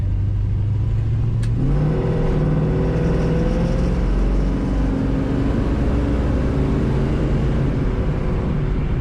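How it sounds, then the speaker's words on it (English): A 1955 Chevrolet 150 Handyman Wagon with an automatic transmission pulls away and accelerates, its engine note rising steadily and holding a smooth, close, continuous drone. "Very nice acceleration, very smooth ride."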